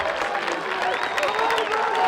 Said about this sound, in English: You hear them, the clapping.